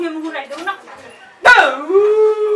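A dog gives a few close, loud, howling yelps with rising and falling pitch, one sharper bark standing out in the middle, in a rural home courtyard.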